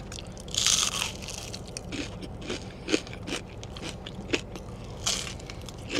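Crunchy Sonic onion rings are chewed close to the ear, with a series of crisp crackles and sharp snapping crunches spread across a steady chewing rhythm.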